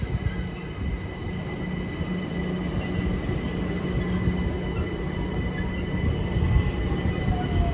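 A South Western Railway train rumbles steadily through a station, a low continuous roar of wheels and rail with a faint high whine above it, no voices.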